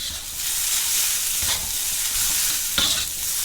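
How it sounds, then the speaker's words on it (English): Shrimp fried rice frying in a hot pan gives a loud, steady close sizzle, broken by a few sharper scrapes of stirring, with no talking. "Fry the rice for a minute or two."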